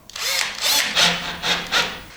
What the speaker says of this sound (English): I'm taking this cordless screwdriver or drill and I'm just screwing it down.